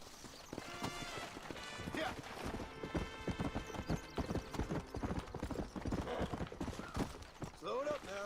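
Rhythmic clip-clop of horse hooves galloping at a quick pace in Red Dead Redemption, with a brief neigh and background game music, a voice talking over it.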